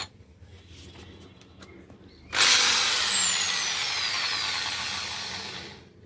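A power drill boring into aluminium alloy spins up abruptly after a quiet start, whining loudly and steadily for several seconds before winding down; no talking.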